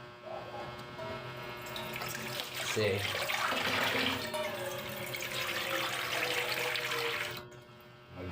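Water runs from a tap into a kettle or pot to be heated for coffee, a steady splashing stream that swells midway and then cuts off, with someone talking over it.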